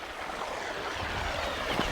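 Flowing stream off a dirt road near the Red Sea coast, a steady broadband wash of water with a faint breeze, close and continuous throughout.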